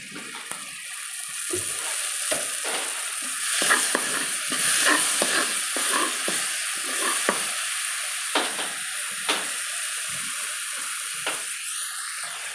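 Tofu and pork fry in a pan as soy sauce goes in, a steady hiss of sizzling with scattered clinks and scrapes of stirring, close and moderately loud, with no talking.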